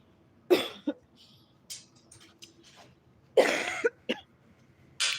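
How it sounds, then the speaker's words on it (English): Several harsh, close coughs from a person who slept outside, in bursts with short pauses between, some raspy and drawn out. "that cough from sleeping outside"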